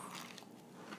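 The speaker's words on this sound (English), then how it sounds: "I'm going to be eating while we do this podcast episode" Crunchy food being bitten and chewed up close, a dense crackly crunching that runs through the whole second at a steady low level with no talk.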